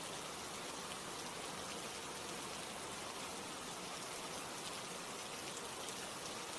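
Steady rain falls in an even, continuous hiss with dense patter throughout and no voices.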